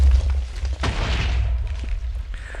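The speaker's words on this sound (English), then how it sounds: "then causes the TNT to subsequently activate and be ready for when this stuff explodes" A Minecraft TNT block detonates with a deep, loud boom at the start, then a sharp crack and a rolling blast that rumbles on and fades over the next couple of seconds.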